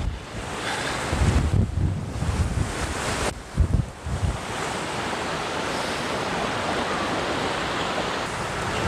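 Strong wind buffets the microphone as a stormy sea crashes and rolls nearby, with heavy gusts and surging waves early on settling into a steady, loud roar.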